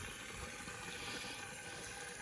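Water fills a self-wicking garden tub in a steady, soft, continuous rushing stream with no talking.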